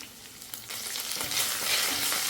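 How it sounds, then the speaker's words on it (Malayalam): Shallots, dried red chillies and curry leaves frying in hot oil, a steady bright sizzle that grows slightly louder, with faint stirring scrapes and no voices. "ഇനി മൂന്ന് ഉണക്കമുളകും ഇത്തിരി കറിവേപ്പിലയും കൂടി ആഡ് ചെയ്ത് കൊടുക്കുക"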